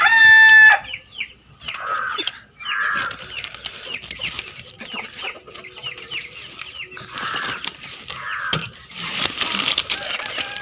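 Aruvatham kozhi hens, a breed that lays and hatches within sixty days, cluck in bursts close by, with scattered higher calls and brief wing flutters between quieter gaps.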